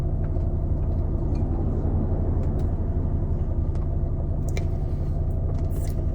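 Steady low engine and road rumble from inside a moving car, constant and even throughout, with faint clicks and rattles and no talking.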